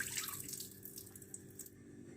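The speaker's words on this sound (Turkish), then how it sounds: "Yarım saat kadar dinlendirdiğimiz pirincimizi şimdi süzebiliriz. İyice süzdürelim." Soaked rice draining in a strainer, a quiet close trickle and patter of water dripping away, fading slightly over the brief moment with no talk.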